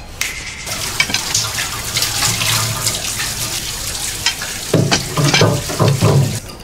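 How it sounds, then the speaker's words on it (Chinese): Water gushes from a broken faucet in a home bathroom, a steady hiss and splash that swells louder near the end, with no voices. "应该不是水表坏了，是水龙头坏了。"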